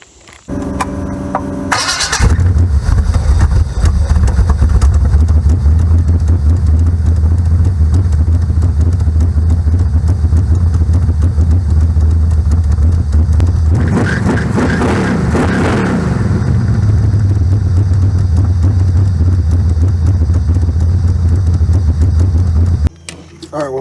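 A car engine with a freshly rebuilt carburetor cranks briefly, fires up and settles into a loud, steady, rumbling idle, with one rising throttle blip partway through before returning to idle.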